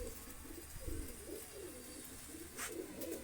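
Pigeons coo in repeated low, throaty phrases at a loft where several large pigeons are kept, the calls fairly close and overlapping against a steady background hiss, with a brief higher rustle near the end.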